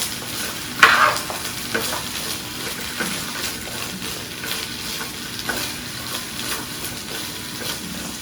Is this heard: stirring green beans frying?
yes